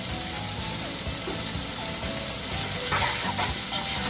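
Four onions sizzle steadily in a hot pan while a spoon stirs and scrapes through them, the frying hiss continuous with occasional louder scrapes toward the end; no talk.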